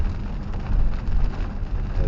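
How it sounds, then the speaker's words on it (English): Dense, steady rain drums on a car driving on big city streets by day, with a low road rumble underneath, a continuous loud wash of noise from inside the car. "I'm out delivering the day in some heavy rain,"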